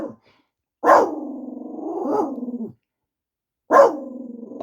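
Dog gives long drawn-out howling barks, two loud close calls separated by silence, the first wavering and trailing off over a couple of seconds.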